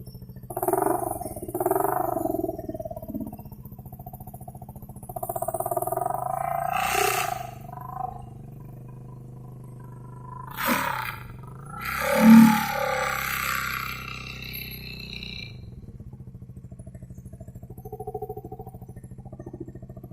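A Honda Beat motorcycle with an aftermarket Helmi Hendera exhaust revs and roars in bursts, with a louder, throaty surge near the middle and a lower idle rumble between blips.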